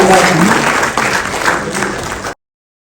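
Loud, dense applause from an audience at a public speech event fills the hall steadily for over two seconds, then cuts off abruptly.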